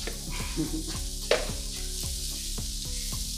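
Celery and cauliflower rice sautéing in a pan, a constant close sizzle with rhythmic stirring strokes of a utensil scraping through the vegetables roughly every half second, no voices.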